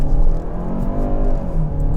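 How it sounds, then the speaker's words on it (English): A 2025 Kia K5 EX pulling away in first gear, a loud engine drone with harmonic tones that climb gradually as it accelerates, heard from inside the cabin without talk. "Start off in first gear on the gas."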